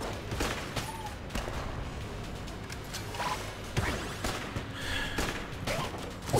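Dense stream of shots and bullet impacts from the dungeon-crawler shooter game Enter the Gungeon, a busy layered barrage with whooshes and crashes running throughout, with no talking.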